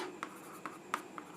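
Pen writing on paper during a class 10 science lesson: quiet, close scratchy strokes in short separate bursts, about four distinct marks, with no talk.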